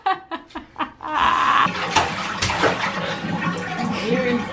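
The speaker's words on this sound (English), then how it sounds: "You're in splashing water." Water splashes loudly and continuously at a creek after a few short vocal sounds, with laughter and voices mixed in over the running splash.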